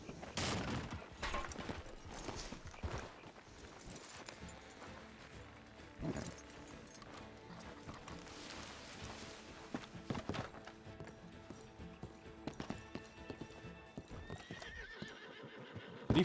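Horses walking with hooves clip-clopping at a steady irregular pace, broken by occasional neighs and whinnies, fairly faint and distant throughout.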